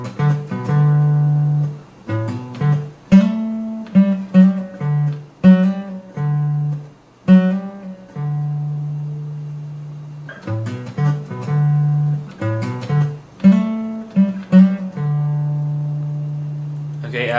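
Guitar riff played alone as clear plucked single notes and hammer-ons in short phrases with brief gaps, held notes ringing between runs.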